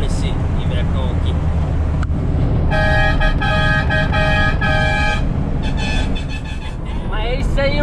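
A repaired, previously faulty vehicle horn honks in several bursts, some held longer, over steady engine rumble on the road, with a person talking nearby.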